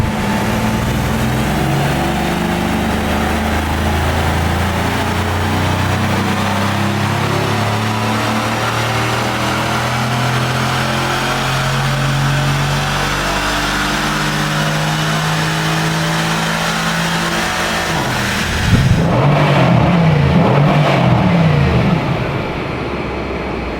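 A Mercedes C63s AMG engine with a stage 1 tune idles and drones loudly for a long stretch, then blips sharply in a brief rev burst near the end.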